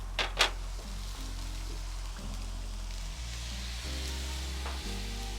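Soy sauce hits a hot hibachi griddle holding noodles and vegetables, giving a steady close sizzle with a couple of quick spatula clinks at the start, the frying continuing evenly without speech.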